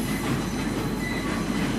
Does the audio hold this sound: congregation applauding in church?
no